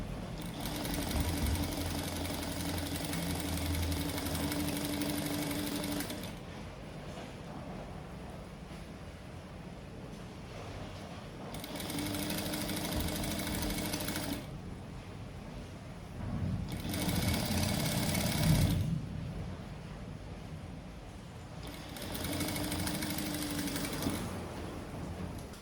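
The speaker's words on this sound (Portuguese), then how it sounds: "vou passando a minha costura bem rente aqui a esse cordão, para ele ficar bem justinho" A sewing machine stitching tightly along a thin piping cord runs in steady whirring bursts of several seconds each, separated by short pauses, close and continuous with a rhythmic mechanical drone.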